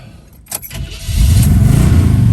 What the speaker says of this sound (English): Let's fire this Z up.